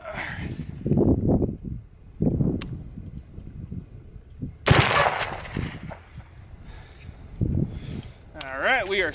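A Mark 12 rifle with a 21-inch Ballistic Advantage barrel firing at water jugs outdoors gives one sharp, loud gunshot crack midway, amid wind noise and people talking before and after.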